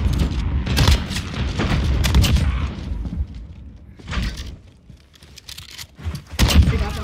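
A grenade explodes in a first-person shooter match as part of a dense burst of booming blasts and gunfire, loud and close, with several more hits a few seconds later.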